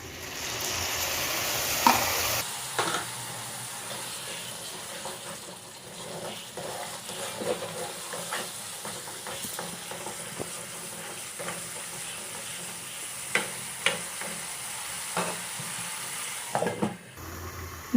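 Spiced water poured into a pan of frying egg curry sets off a loud burst of sizzling and splashing, then settles into a steady frying hiss broken by scattered clinks and scrapes of stirring.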